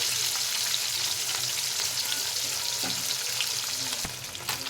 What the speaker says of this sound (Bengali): মাছগুলো দিয়ে দিয়েছি, ভালো করে ভেজে নেব